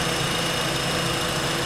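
The 2.4-liter, 192-horsepower four-cylinder engine of a 2015 Honda Crosstour EX-L runs under the open hood. It makes a steady, loud, close idle hum with no talking.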